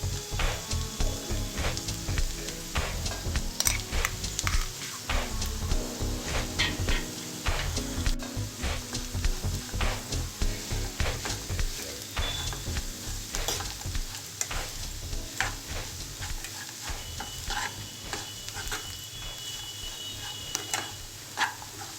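Bitter gourd pieces sizzle steadily in a pan with ground coconut, garlic and chili powder, a close, continuous frying hiss broken by frequent scraping stirs of a spoon.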